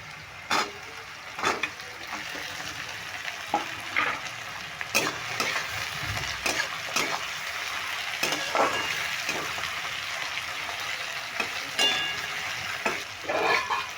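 Onions and chopped tomatoes frying in a pan for a Bengali egg tadka, a steady soft sizzle broken by repeated sharp scrapes and stirs of a spatula, close up with no talking.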